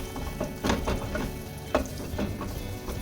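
Garlic frying in a pan, a close, soft crackling sizzle with scattered louder pops and stirring sounds throughout.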